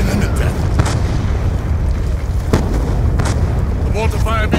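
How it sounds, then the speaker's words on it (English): Mortar fire in the video game Black Ops 2 rumbles as a dense low battlefield din, with several dull booms and sharp bursts landing throughout, while a voice speaks over the combat. "The mortar fire means the MPLA is ready for attack."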